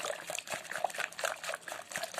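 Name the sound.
milk and water poured into pancake batter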